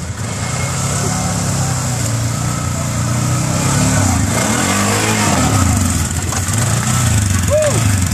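Polaris ATV engine revving during a group trail ride, a steady buzzing drone with pitch swells, fairly close and loud, people talking faintly over it.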